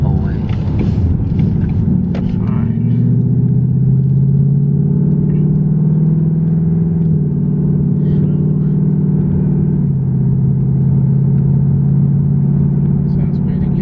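Deep, steady exhaust rumble from a car fitted with an X-pipe, holding a low throbbing drone throughout with a slight rise early on, heard from inside the moving car.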